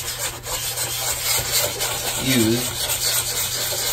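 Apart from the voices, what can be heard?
sanding dried wood filler with 240 grit sandpaper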